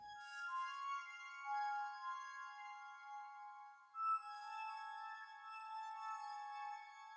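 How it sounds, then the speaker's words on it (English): A soft, sustained synth pad chord with bright shimmering overtones, changing once midway, gentle and airy with no voices. "lastly, we've got that nice ambient sort of chord background"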